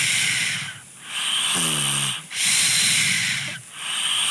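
Loud snoring repeats in slow cycles, raspy hissing breaths with a brief voiced rumble in between, close to the microphone.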